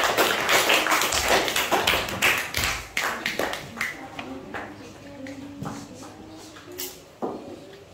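A group of students in a classroom clap for a team, a burst of loud, dense claps early that thins into scattered, softer taps and thuds with some murmuring voices underneath.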